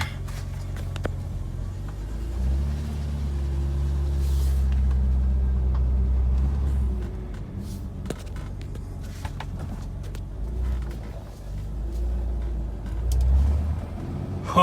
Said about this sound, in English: We'll take her for a quick test drive